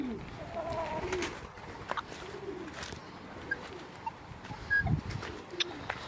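Pigeons coo softly in short low murmurs, with a few higher chirps from other birds over a steady outdoor background.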